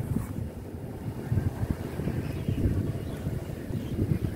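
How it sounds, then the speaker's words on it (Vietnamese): Strong wind blows steadily while a kite is flown, and the gusts buffet the microphone in a continuous low roar for a few seconds with no speech. "Gió rất mạnh luôn."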